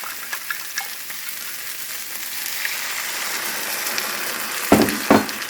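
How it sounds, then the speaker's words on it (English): Cornstarch mixture stirred into a pan of sizzling vegetables, a steady close frying crackle with small pops, ending in two louder scraping knocks near the finish, with no talking. "we want to take our cornstarch mixture, give it another stir"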